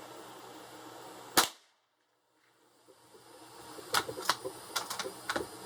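A .22 LR rifle with a 16.5-inch barrel firing bulk Thunderbolt rounds: one sharp, loud crack, then a brief hush, then a run of lighter clicks and small metallic taps close by.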